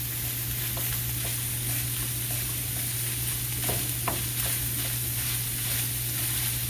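Ground hamburger meat sizzling steadily in a frying pan, with a constant hiss and occasional scraping, tapping stirs as the chunks are broken apart; no talking.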